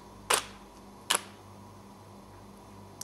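Two sharp mechanical shutter clicks from a Nikon D300s DSLR in live view about a second apart, with a faint autofocus whir between them and a softer click at the end, over quiet hum.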